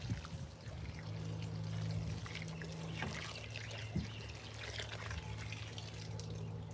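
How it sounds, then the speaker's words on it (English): A watering can pours water onto a container-grown soursop plant, giving a steady close trickle and splatter into soil with a low hum beneath and no voices. "All I need to do is water this thing."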